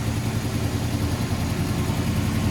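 A 1981 Oldsmobile Delta 88 engine idles steadily up close, a loud, even low rumble that holds smoothly throughout with no voices.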